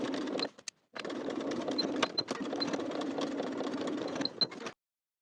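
A sewing machine stitches in the ditch along waistband side seams to secure elastic, a fast, steady whir, stopping briefly near the start, then continuing before cutting off.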